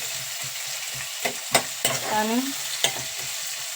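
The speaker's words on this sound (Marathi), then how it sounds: "मस्त असे आपण कांदा सोनेरी रंगावर फ्राय करून घेऊ" Onions frying in a pan until golden, a steady sizzle broken by a few sharp scrapes and clacks of stirring, close and fairly quiet.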